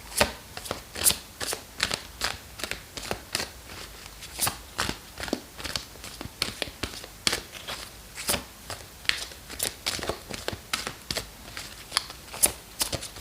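A tarot deck shuffled by hand, heard as a rapid, even run of crisp card riffles and flicks, close and fairly quiet, continuing throughout without speech.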